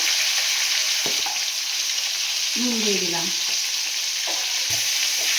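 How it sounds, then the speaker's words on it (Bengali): Green banana and eggplant fry with turmeric and salt in hot oil, a loud continuous sizzle beside the pan, with a few brief spoken words over it. "এবারে আমি সবজিগুলোকে ভেজে নেব।"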